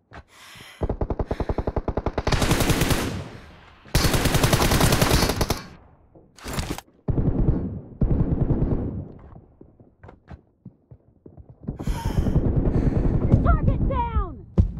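Simulated M416 assault rifle fire in PUBG Mobile during a team deathmatch, with loud rapid automatic bursts separated by short pauses and scattered distant shots, ending in a dense stretch of firing.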